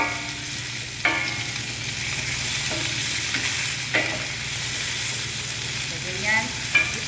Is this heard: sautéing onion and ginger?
yes